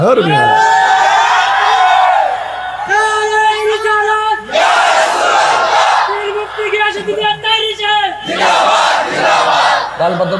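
A crowd shouts slogans in loud, rhythmic chanted bursts, voices rising together in long sustained calls with brief dips between waves, close and dense throughout.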